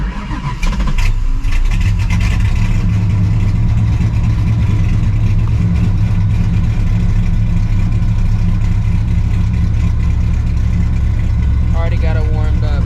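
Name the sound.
cammed, procharged 1999 Mustang GT engine revving hard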